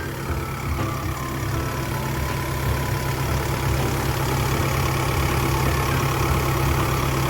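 An Isuzu 4JJ1 turbo diesel engine in a Sumitomo HA60W-7 asphalt paver idles steadily up close, a constant low rumble with an even mechanical clatter and no voices.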